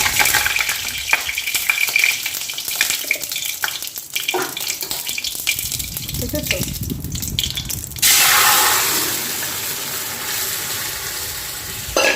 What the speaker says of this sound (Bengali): শুকনো লঙ্কা ফোড়ন দিলে ভালো হবে খেতে টেস্ট ভালো হয় আর দেব জিরো ফোড়ন ভালো করে ভেজে নিতে হবে এটাকে